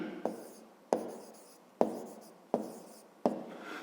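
A pen strokes across paper while working a grade-5 maths exercise, five sharp, evenly spaced scratches close up, each fading quickly, in a quiet room.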